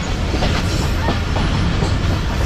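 Musa Pak Express passenger train running on rails near Khanewal, a steady loud rumble with rhythmic wheel clatter over joints, heard from on board with no talk.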